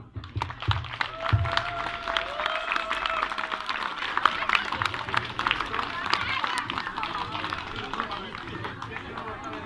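Audience applause for youth leaders and children at a Leváre feast-day (hody) celebration, dense outdoor-sounding clapping sustained for about ten seconds with crowd murmur and some voices mixed in.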